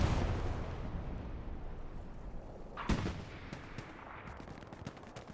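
Tank cannon fire in Hell Let Loose strikes the tracks of an IS-1 tank on the Kharkov map, a sharp blast near three seconds standing out over continuous rumbling battle noise and scattered distant shots.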